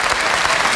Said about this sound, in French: Ils applaudissent, j'adore.